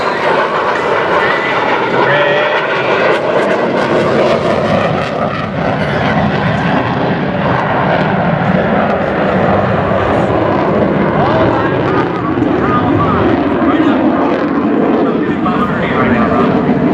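Military jet at maximum afterburner, about 44,000 pounds of thrust, pulling vertical at the Duluth air show, a loud continuous roar and rumble lasting throughout with a voice talking over it.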